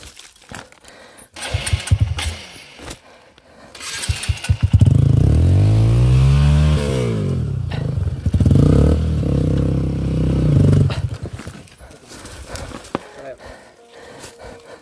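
A motorcycle on a mountain trail with a failing engine, a loud revving roar that rises and falls in pitch mid-clip, with clattering, scuffing and voices around it before and after.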